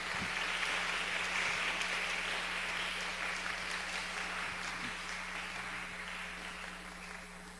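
A church congregation claps to welcome a visiting pastor from a Christian church in Fukuoka, a broad sustained wash of applause that slowly fades over several seconds.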